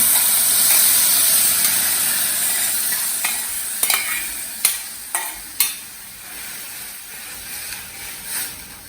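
Moong dal frying and being stirred in a pan over a low flame, with a steady sizzling hiss throughout and several sharp scraping clicks of the spoon near the middle, close and fairly loud.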